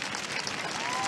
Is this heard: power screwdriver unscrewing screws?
no